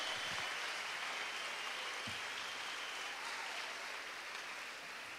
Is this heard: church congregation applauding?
yes